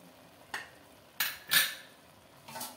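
Metal pot and lid clatter over cooking pulao as the lid is set in place, a few sharp clinks and knocks spaced apart on a quiet stovetop with no talk.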